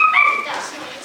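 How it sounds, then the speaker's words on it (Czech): A dog gives a short burst of high, thin yips and whimpers, close and clear, lasting about a second. "Králík tedy zavolal pejska."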